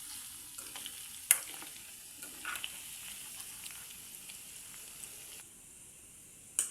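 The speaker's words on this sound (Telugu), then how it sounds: "గోల్డెన్ బ్రౌన్ కలర్ వచ్చేంత వరకు వేగనివ్వాలి, డీప్ ఫ్రై అవనివ్వాలి." Chicken pieces deep-frying in oil for a pickle, a steady soft sizzle and bubbling with occasional stirring clinks and scrapes, fairly quiet and continuous with no talking.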